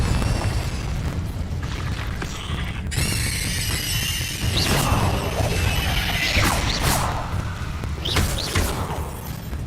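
Repeated Confringo blasting-spell explosions from the Hogwarts Legacy video game, booming and crackling bursts with whooshes over a busy, continuous game soundscape, with several sharp hits across the stretch.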